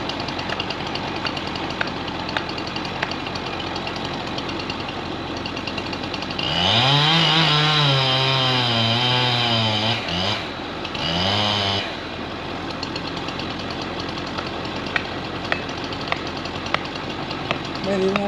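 Chainsaw revving hard through the back cut while felling a huge tree in the Jemez mountains, a loud sustained whine of about five seconds that dips, then a shorter burst, with people talking around it.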